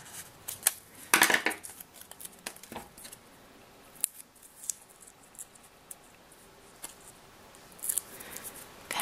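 Scissors snipping paper while making a greeting card, heard as quiet, irregular crisp cuts and small rustles scattered through a soft background, some snips sharper and closer than others.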